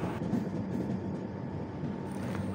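The 12369 Kumbh Express runs toward Lucknow, heard from inside a 3AC economy coach as a steady low rumble with faint rattles and clicks and no talking.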